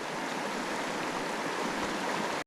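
A section of river on a brown trout stream rushes steadily and close by, a dense continuous wash of flowing water that cuts off abruptly just before the end.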